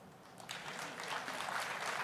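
Audience applause at a securities-law talk on a blockchain cruise, a steady broadband patter of many hands that swells after a half second and holds at moderate loudness.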